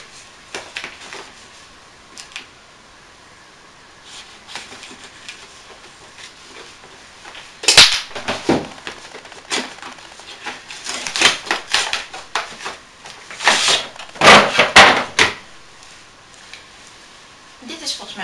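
Small knife slicing open the plastic packaging of a Stokke Tripp Trapp baby set indoors, with scattered crisp scraping and crinkling bursts that cluster loudest in the second half, amid faint handling noise.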